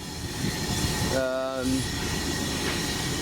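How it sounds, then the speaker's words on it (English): Two locomotives run round their train together as a double header at a heritage railway gala on the Spa Valley Railway, giving a steady rumble of engines and wheels with a brief tonal horn-like whistle partway through. "these 2 engines running round and then pulling us out again as a double header"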